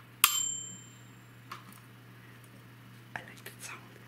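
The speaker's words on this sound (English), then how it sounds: "Electromechanical timer with bell." A single sharp ding from the bell of an electromechanical microwave oven timer rings out and decays over a low steady hum, followed by a few faint handling clicks.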